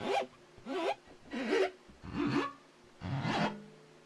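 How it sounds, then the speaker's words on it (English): A fingernail scrapes along round wound strings in five separate swipes, each a short, gritty zipping rasp with pauses between, close and fairly quiet. "I'll just run some scraping with my fingernail on round wound strings."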